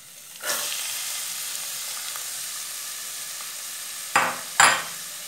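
Onion sautés in hot oil. A sharp hiss bursts up as it goes in, then settles into a steady close sizzle, with two brief louder flare-ups near the end.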